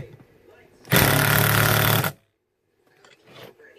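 A Milwaukee Fuel Gen 2 3/8-inch impact wrench fires one loud, close burst of rapid hammering that lasts about a second and then cuts off abruptly on its own, leaving quiet with faint sounds after.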